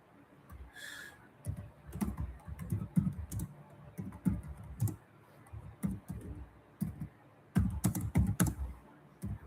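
Rapid, uneven keystrokes clatter on a computer keyboard at close range in bursts, with short pauses between runs of typing and no talking.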